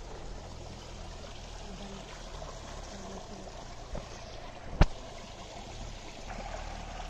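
A small stream runs through an international fruit farm at Kakkadampoyil, trickling softly and steadily at low volume. A single sharp click cuts in partway through.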